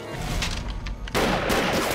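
Gunfire sound effect from a kung fu prison film, heard as a dense burst of broadband cracks that grows louder and fuller partway through and keeps going without pause to the end.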